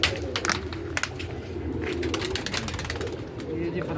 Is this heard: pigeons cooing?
yes